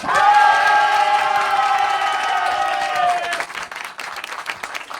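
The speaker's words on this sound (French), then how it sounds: "Je vous demande un tonnerre d'applaudissements pour celles qui roulent pour l'association Les Roses Poudrées" A crowd applauds and cheers for a women's charity rally team at the start of a rally stage in Orléans, with loud, sustained clapping, a sustained shout or whoop over it, then thinning claps toward the end.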